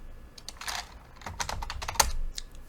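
Rapid, close clicking of keys on a computer keyboard as a short command is typed, irregular taps in quick bursts with one sharper keystroke near the end.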